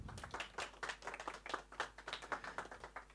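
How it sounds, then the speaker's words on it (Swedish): A small audience in a Swedish talk session gives a short round of applause after a presentation on social media trends, light scattered clapping at moderate distance. "Ja, vi kan ge en liten applåd till Niklas."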